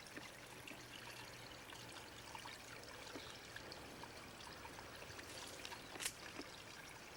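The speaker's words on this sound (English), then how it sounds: "I heard this water here, and that's supposed to be a bit of a waterfall." A small garden waterfall trickles faintly and continuously, a soft steady dribble of water heard from a short distance with little else around.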